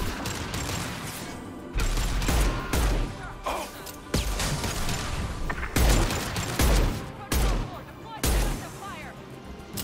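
Gunshots crack in a Mass Effect 2: Legendary Edition firefight, arriving in several loud, punchy bursts with impacts and mechanical clatter, while players talk over the action.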